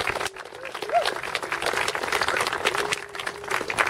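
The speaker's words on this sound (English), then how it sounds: "They all deserve a big round of applause." Crowd applause at the All My Relations mural unveiling outdoors in Allan Gardens, Toronto, a dense steady clapping from a gathered audience lasting a few seconds, with some voices mixed in.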